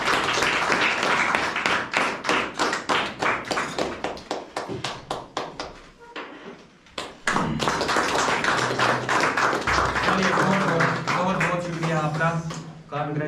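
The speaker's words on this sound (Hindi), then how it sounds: "चलिए तालियां हो जाएंगी।" An audience claps at a student award ceremony honoring a top student, starting as scattered separate claps and swelling into steady applause, with brief talk breaking in partway through.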